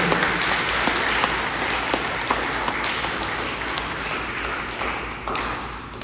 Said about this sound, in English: give all of those students a big round of applause for their efforts